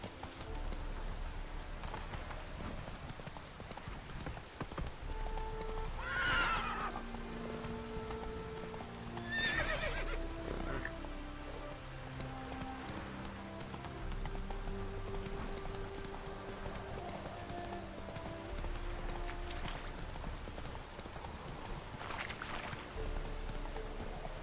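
Horse in The Witcher 3 video game trotting with steady clip-clop hoofbeats, letting out a couple of whinnying neighs, over a soft patter of rain, with no talking.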